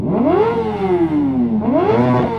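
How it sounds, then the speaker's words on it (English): A sports motorcycle engine revs up twice, the pitch climbing and sliding back down, loud and close. "Hey, give it a rev."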